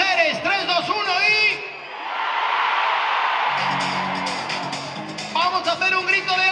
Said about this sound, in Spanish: ¡Que griten las mujeres!